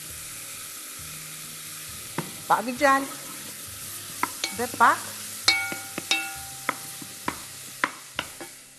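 Onion and carrot fry in a pot with a soft background sizzle. Sharp knocks and scraping stirs come at irregular intervals, and a voice speaks briefly near the start.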